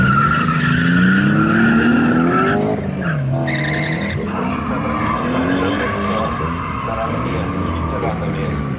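BMW E30 race cars skid around a track, with sustained tire squeal and engine noise throughout and a commentator talking over the action.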